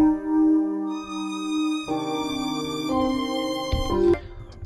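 A sustained orchestral solo string loop from a free software instrument, long bowed notes stacking into layered chords that shift every second or so, ending in a brief swell.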